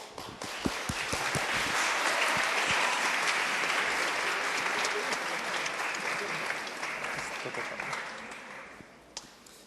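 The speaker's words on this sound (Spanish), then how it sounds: "Un aplauso." Audience applause after an immunology symposium talk, a dense sustained clapping that swells quickly, stays strong for several seconds, then gradually thins out near the end.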